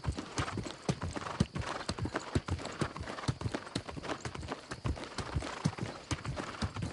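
Horse hooves clop along steadily in New World: Aeternum, a fast, even trot of sharp thuds repeating throughout against a wash of background noise, moderately close and without talk.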